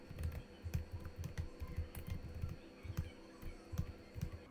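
Someone types code on a computer keyboard at a steady pace, with soft, close key clicks that run continuously over a low room hum.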